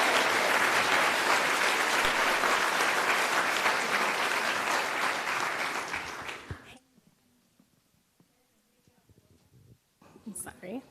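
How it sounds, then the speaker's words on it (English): Audience applause at a community town hall for a panel speaker, loud dense clapping for about six seconds that fades into near silence, followed by faint shuffling and a voice near the end. "A round of applause for the Executive Director of the Hoopa Tribal Education Association, Ms. Erica Tracy."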